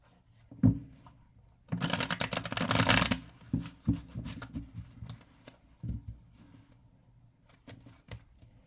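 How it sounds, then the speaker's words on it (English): A deck of tarot cards being shuffled up close: a soft flick, then a dense riffling burst lasting over a second, followed by scattered lighter taps and slides of cards, with no talking. "Couple more shuffles here."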